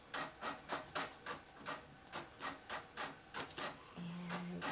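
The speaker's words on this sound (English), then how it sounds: "Ignore the printer going off." An office printer runs in a quiet indoor room, giving a steady train of rhythmic mechanical sweeps, about ten evenly spaced passes, then a continuous hum with a faint steady tone at the end.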